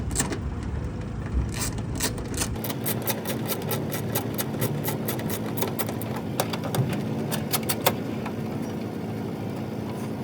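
A T20 Torx driver removes the sliding door track bolts on a Ford Transit Connect, making a steady run of quick, even clicks for several seconds over a constant low hum, close up with no talking.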